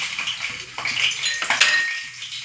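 Cumin seeds sizzle and crackle in hot oil in a kadhai, a steady bright frying hiss with a few sharper pops near the middle, close and continuous throughout.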